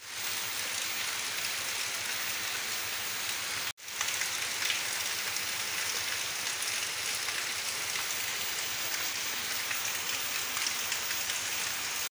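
Heavy rain pours steadily outdoors, a dense unbroken hiss with a brief cut partway through.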